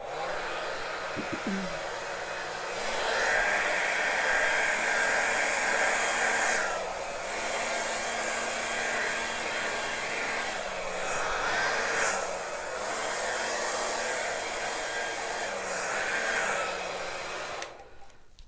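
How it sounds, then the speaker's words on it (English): A blow dryer used on acrylic pour paint runs steadily with a loud, constant whooshing hum for the whole stretch, then cuts off at the very end. "let me just grab my blow dryer"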